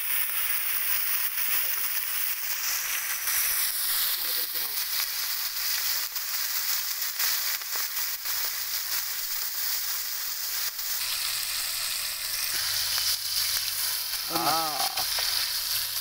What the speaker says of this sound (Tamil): பெரிய மீன் விரட்டும் போது எண்ணெய் அப்படி மேல அடிக்குது.